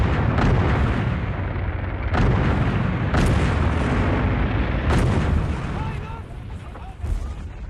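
Heavy artillery and tank cannon fire booms repeatedly in a World War II battle on the Soviet front, several loud deep blasts a second or so apart over a continuous rumbling din, with Korean narration underneath.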